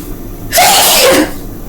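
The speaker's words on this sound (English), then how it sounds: "constantly trying to stop from sneezing while they talking to me" A single sharp sneeze bursts out close by, brief and loud against a quiet room.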